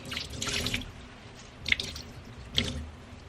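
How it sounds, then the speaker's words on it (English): Tap water running into a sink while delicate silk and wool garments are rinsed, with a few splashy drips and squishes of wet fabric standing out over a soft, close flow; no one talks. "making sure that all that soap is out of there and that water is running nice and clean"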